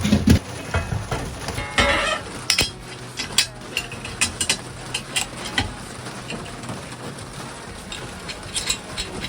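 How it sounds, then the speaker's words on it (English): Metal clanks, scrapes and ratcheting clicks as a steel axle is fitted into a 125cc drift trike frame, irregular close knocks and taps with no talking. "let's put the axle in and let's have a look at it"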